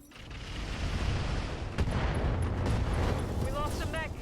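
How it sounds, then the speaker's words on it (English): In the RogueTech video game, a mech is destroyed by an SRM ammo explosion, heard as a sustained rumbling blast and crackle that builds and holds for several seconds, ending in a short burst of higher ringing tones. "We lost a mech. SRM ammo explosion."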